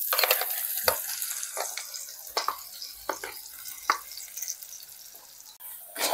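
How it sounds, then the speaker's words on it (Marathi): Black masala paste fries in oil on a griddle while being stirred, a bright close sizzle broken by repeated sharp scrapes and knocks of the spatula, fading slightly before a final burst. "आता हा मसाला जो आहे आपल्याला एकदम तेल सुटूपर्यंत आपल्याला भाजायचा आहे"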